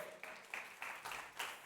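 Sparse applause from a live audience for David at a talk, about five soft clap bursts at a steady rhythm, faint and distant, with no talking over it.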